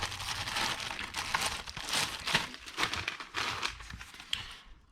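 A small cardboard and plastic package holding a GoPro 3.5mm mic adapter is torn open by hand, making close, continuous crinkling and ripping for several seconds before it fades out.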